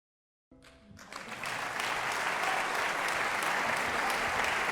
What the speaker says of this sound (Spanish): los aplausos surgieron como una lluvia repentina de gratitud